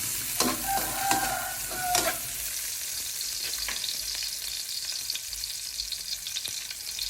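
Garlic frying in hot oil gives a steady close sizzle, with a few sharper stirring scrapes early on before it settles into an even hiss.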